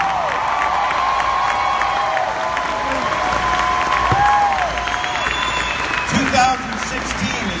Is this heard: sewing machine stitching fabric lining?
no